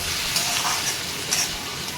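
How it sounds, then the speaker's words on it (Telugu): Tomato pieces frying in a pan produce a continuous close hiss and sizzle with a few soft crackles over two seconds, no voices. "ఇప్పుడు ఒక టమాటా ముక్కలు యాడ్ చేసుకొని బాగా ఫ్రై చేసుకోవాలి."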